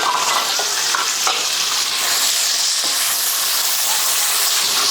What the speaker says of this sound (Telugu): ఆయిల్ వేడెక్కిన తర్వాత కొంచెం జీలకర్ర, ఇంక ఇందులోకి మసాలాలు ఏమీ అయ్యవసరం లేదు, వేసేసి ఉల్లిపాయ 4 ఉల్లిపాయలు అండి పొడవుగా కట్ చేసుకున్నాను